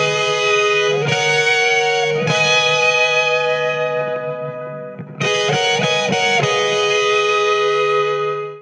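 Three-part electric guitar harmony through a fuzz pedal with hall reverb, sustained distorted chords that shift pitch in steps, a pause near the middle, then a return of the layered fuzzy lines ringing out loud.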